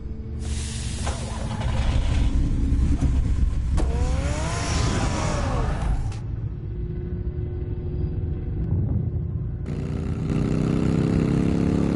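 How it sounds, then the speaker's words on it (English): A car in the Batman Telltale Series video game rumbles and revs as it pulls away, a steady loud engine roar with a rising whine midway, then dropping off before another burst of engine noise near the end. "Get the car ready"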